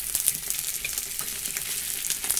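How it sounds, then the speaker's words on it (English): Mongolian bansh dumplings, first boiled in milk tea, fry in a pan with a steady, close crackling sizzle and scattered pops throughout. "now it's gonna fry the tail first"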